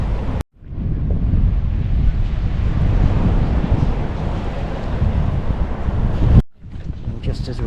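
Wind and breaking surf at Sindhu Beach in Sanur, Bali, a steady broadband roar that fills the clip with gusty rumble after a brief dropout near the start, easing down near the end.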